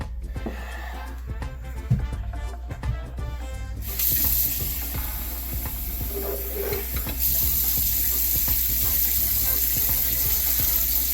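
Water poured into a pot of sausage pasta stew with tomato basil sauce, a steady splashing and hissing pour that swells partway through and continues to the end, close and fairly loud with no talking.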